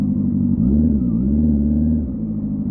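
A Benda LFC 700 motorcycle engine fitted with a new muffler gives a loud, deep, steady rumble close by, its pitch dipping and rising slightly as the throttle shifts.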